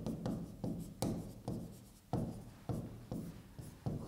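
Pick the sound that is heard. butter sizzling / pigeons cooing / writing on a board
writing on a board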